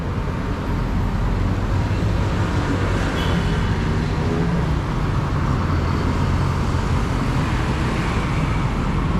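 Steady broadband traffic roar from a city street at night in Bonifacio Global City, cars and buses rumbling continuously with no pauses, moderately loud and close, with a faint murmur of voices underneath.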